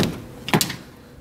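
Rear door of a 2013 Toyota FJ Cruiser unlatching and swinging open, a short clunk with a brief rattle, close and moderately loud, no talking.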